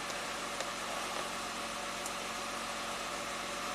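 An Acura car engine idles steadily as it warms up for an idle relearn after flood damage: a constant, even mechanical hum with a broad hiss, no talking.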